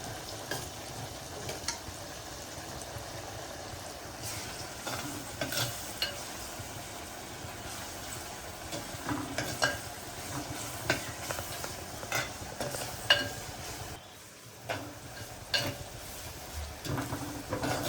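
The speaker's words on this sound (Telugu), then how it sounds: "మామిడికాయ ముక్కలు ఉడుకుతున్నాయండి" Mango pieces simmer in a fish curry in a clay pot, giving a continuous low sizzle and bubble with scattered scraping and clinking of a utensil against the pot, fairly close and without talk.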